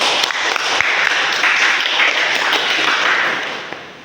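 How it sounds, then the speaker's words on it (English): A classroom of students clapping together in sustained applause at the end of a probability lecture, dense, steady and fairly loud throughout. "So we'll have a clap, right?"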